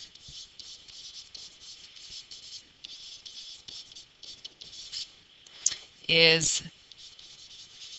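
Scratchy, rhythmic strokes of writing on a board during a linear inequalities math lesson, mostly quiet and steady with a louder burst of scraping near the end; a brief spoken word is heard.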